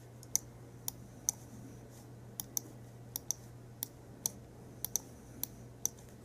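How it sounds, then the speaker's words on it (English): A computer mouse clicks sharply and sparsely while notes are trimmed in music editing software, with about a dozen crisp, close clicks at irregular intervals over a quiet low hum. "So I'm clicking and pulling."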